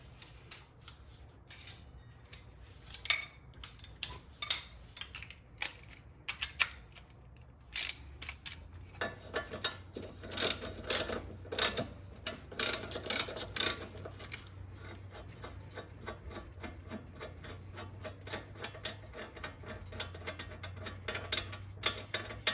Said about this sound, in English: And then now we're gonna loosen this bolt here